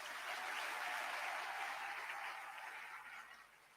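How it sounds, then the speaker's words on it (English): Steady audience applause at a medical and dental practitioners' induction ceremony, a dense continuous wash of clapping that holds strong and then gradually tapers toward the end. "please don't let the applause die down"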